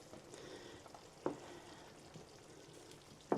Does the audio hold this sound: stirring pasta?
yes